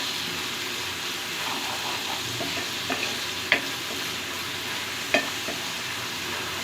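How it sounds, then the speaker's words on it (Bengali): Spices being stirred and fried in a pan with prawn heads for a prawn-head bhuna: a steady broadband sizzle runs throughout, broken by a few sharp scraping clicks of the spoon against the pan. "এখন সবগুলো মশলা ভালো করে আমি একটু নেড়ে চেড়ে মিশিয়ে নিচ্ছি।"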